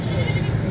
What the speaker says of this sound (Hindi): ये देखिए मंडी से बकरी जा रहे हैं।